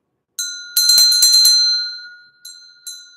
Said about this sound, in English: I forgot to ring the bell.